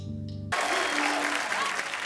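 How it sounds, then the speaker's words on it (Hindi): After a short musical tone, a television comedy show studio audience bursts into loud, sustained applause that fills the rest of the moment. "जोरदार तालियां"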